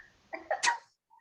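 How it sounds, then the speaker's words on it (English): A single sharp sneeze from a royal court reacting to pepper shaken from a pot, close and clear, ending in quiet. "The Duchess shakes the pot and the court sneezes."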